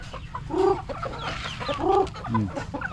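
Chickens cluck nearby in short repeated bursts, several calls overlapping at moderate loudness.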